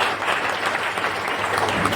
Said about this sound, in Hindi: इस संबंध में आपकी जोरदार तालियां होनी चाहिए।